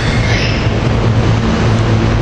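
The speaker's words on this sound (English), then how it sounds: "here we got train 9837 to Chestnut Hill West from Temple University. Silverliner 5 rail cars" A Silverliner 5 commuter train rumbles through 30th Street station at rush hour, with a dense, loud, steady roar of rolling rail cars close by.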